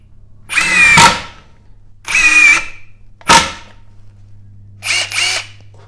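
A Makita XDT19 or Hikoki WH36DC cordless impact driver drives large lag screws, giving four loud, close, ratcheting bursts separated by pauses. The last burst is shorter and stuttering.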